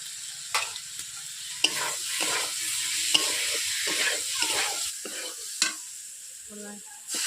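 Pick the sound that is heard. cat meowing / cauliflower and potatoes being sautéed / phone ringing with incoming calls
cauliflower and potatoes being sautéed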